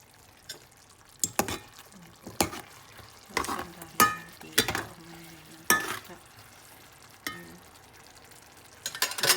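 Beef steak sizzling in a sauce in a frying pan, with close spatula stirs and scrapes in irregular bursts over a soft background sizzle.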